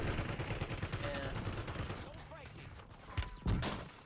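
A sniper rifle shot rings out in an online shooter game, two sharp cracks landing near the end over a steady bed of ambient game noise.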